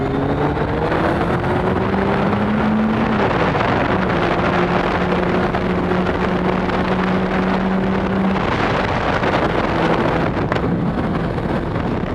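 Kawasaki ZX-12R motorcycle cruising at low revs around 5,000–6,000 RPM, a steady engine hum with shifting pitch under constant heavy wind rush, continuous and loud throughout with no talk.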